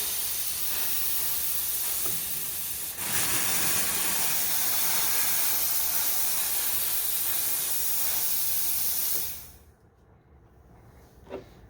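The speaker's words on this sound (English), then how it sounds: "We'll turn it on low, and now you can see it coming out the 3-hole nozzle." A US Steam Falcon steam cleaner blows steam through a 3-hole nozzle on its low setting. A loud, steady close hiss runs for about nine seconds, then cuts off to near silence with one faint click afterward.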